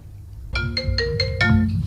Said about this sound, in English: Why is this guy ringing me?